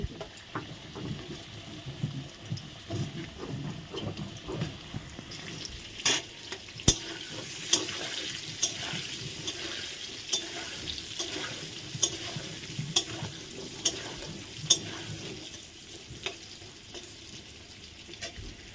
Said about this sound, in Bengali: তেল গরম হয়ে গেছে এখন আস্তে আস্তে আলুগুলো ছেড়ে দিচ্ছি বন্ধুরা আলুগুলো ভালো করে লাল লাল করে ভেজে নেব